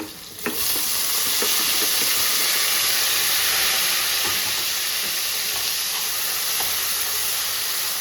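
Shallots, garlic and tomato fry in a hot pan with a loud, steady sizzle and hiss, a few stirring clinks near the start, continuing close and alone without talk.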